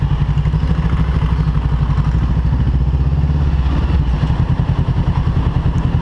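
A Honda CBR500R rumbles steadily through Philadelphia city streets, its engine a loud, close, continuous throb with a faint rattle and no speech over it.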